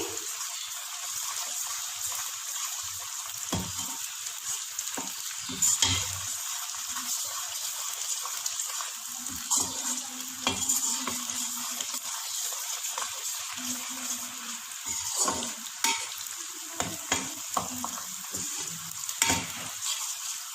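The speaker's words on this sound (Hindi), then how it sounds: "4 बादियान या स्टार के फूल, 2 बड़ी इलायची, 1 सब्ज़ इलायची और 3 लौंग और दालचीनी के कुछ टुकड़े। इसको हम अच्छे से भून लेंगे" Whole star anise, black and green cardamom, cloves and cinnamon pieces fry in a pan for a biryani, with a quiet steady sizzle and occasional scraping as the spices are stirred.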